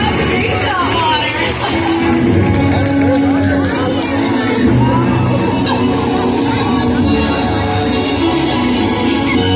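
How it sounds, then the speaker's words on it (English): Large audience applauding and cheering at an orca show, a dense, loud, continuous wash of clapping and crowd noise with shouts mixed in throughout. "Everybody give them a big round of applause"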